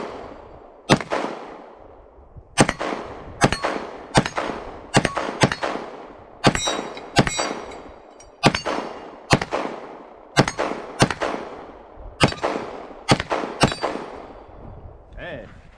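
A Sig P320 Full Size 9mm pistol fires at steel targets outdoors, loud sharp shots in quick pairs and singles across the stretch, each followed by a short ring of the steel.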